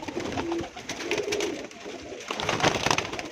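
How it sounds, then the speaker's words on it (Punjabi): Pigeons in a loft coo softly and repeatedly at close range, with low throaty calls overlapping amid light background noise. "ਇਹ ਵੱਡਾ ਇੱਕ ਕਬੂਤਰ ਗੋਲਡਨ ਆ ਮੇਰਾ"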